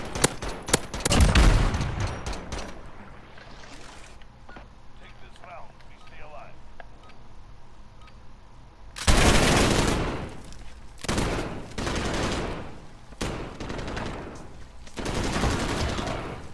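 Gunfire in a Call of Duty Modern Warfare 2v2 multiplayer match, with loud bursts of automatic fire and shots repeating in clusters across the clip, mixed with a player's voice talking.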